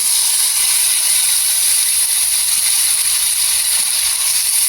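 Ground mustard spice paste, added after turmeric to hot oil in a pan, sizzles in a loud, steady hiss that holds unbroken throughout.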